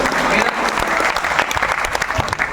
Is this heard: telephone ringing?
no